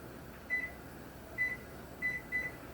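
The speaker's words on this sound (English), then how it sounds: "because you just turned the microwave on" A microwave oven hums quietly in a kitchen during home canning, with four short, high electronic beeps from its keypad over the steady drone.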